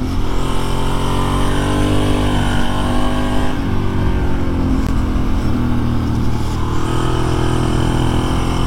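A Ducati Monster motorcycle with a two-valve engine runs loud and close, its steady engine note rising and shifting in pitch as the throttle is worked, with no talk over it.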